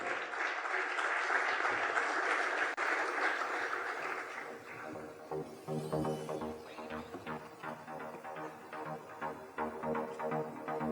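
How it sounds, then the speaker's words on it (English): Dense audience applause fills a summit opening session, then thins into scattered claps as voices begin talking. "Can we have a round of applause, please?"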